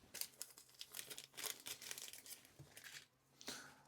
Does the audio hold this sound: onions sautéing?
no